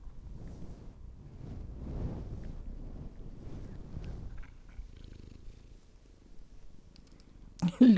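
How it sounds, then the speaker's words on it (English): A cat purrs close into the microphone beside someone knitting, a low, steady rumbling purr pulsing in soft waves for several seconds before fading, with a brief rustle at the end. "purring into the microphone"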